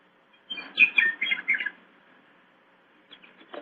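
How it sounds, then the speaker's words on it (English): Birdsong for a sunny outdoor stroll in a radio drama: a short burst of bright chirps and trills, then quiet, then a few faint further calls. "the birds were singing"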